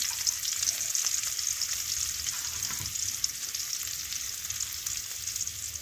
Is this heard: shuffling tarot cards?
no